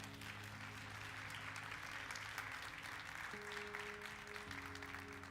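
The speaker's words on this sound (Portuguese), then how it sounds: "Então dá um aplauso a Jesus aí, dá." Church congregation applauding during a Portuguese-language evangelical service, soft steady clapping from a distance beneath sustained organ or keyboard tones.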